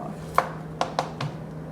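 A knife trims a browned spot from soft summer squash (zucchini) in a kitchen cooking demonstration: four crisp, close cuts land in an uneven rhythm over about a second, above a faint steady hum.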